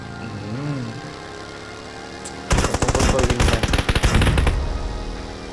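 Loud rapid gunfire in a video game breaks out midway and rattles for about two seconds in dense bursts, after a quieter stretch of humming engine and tonal game sounds.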